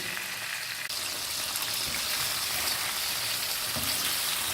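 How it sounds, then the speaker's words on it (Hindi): Mutton karahi pieces frying in a pan over a high flame, a steady bright sizzle and crackle that runs evenly throughout with no voices over it. "इनको मिक्स करेंगे और अब हम इनको थोड़ा सा तेज़ आंच पे भूनेंगे।"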